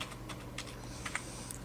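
HTML code being typed on a computer keyboard, with quiet, close, irregular key clicks and a few slightly sharper taps over a low background hum.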